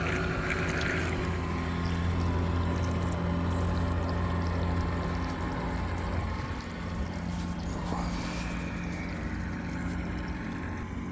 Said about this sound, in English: Ready for submerge operations. Okay, here we go. This is 1/4 throttle.